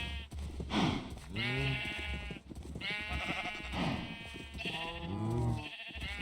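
Repeated wavering bleats from Minecraft sheep, about three or four distinct calls close together, clear and near with no talking.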